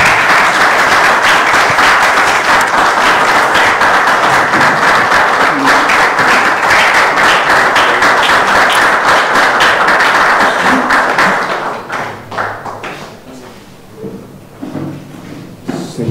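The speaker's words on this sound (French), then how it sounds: "C'est pas assez nourri comme applaudissement." A crowd at a political rally breaks into loud, dense applause that holds steady for about eleven seconds, then thins into uneven, scattered claps.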